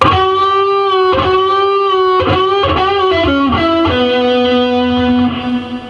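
Heavily distorted electric guitar phrase with picked notes and bends, played loud and solo, settling onto a lower sustained note before tapering off.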